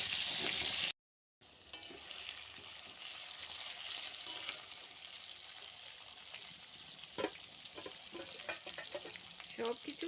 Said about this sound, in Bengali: আমি সব মশলা ভেজে তারপর আলু দিয়ে দিলাম। এখন আলুটা অল্প টাইম ভেজে নিব।